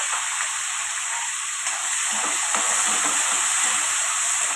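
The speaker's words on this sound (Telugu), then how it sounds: "ఇది బాగా వేగిన తర్వాత మనం ముందుగా తరిగి పెట్టుకున్న టమాటా, పచ్చిమిరపకాయలు, కరివేపాకు వేసి మగ్గించుకోవాలి." Chopped tomatoes, green chillies and curry leaves sautéing in a hot pan give a steady, dense sizzling hiss, close and continuous, with a few faint stirring scrapes and no talking.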